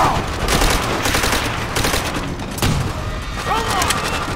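Machine gun fire rattles in rapid bursts in the Call of Duty: World at War video game, mixed with scattered shots and impacts across a noisy battlefield soundscape.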